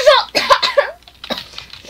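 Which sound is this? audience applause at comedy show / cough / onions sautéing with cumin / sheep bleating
cough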